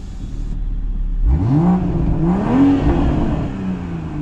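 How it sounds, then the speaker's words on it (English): A BMW M340i fitted with an M Performance exhaust, switched into Sport Plus, revs loudly with a rising and falling engine note in two or three close, strong throttle blips, heard alone with no talk. "it does make the car sound extremely sporty"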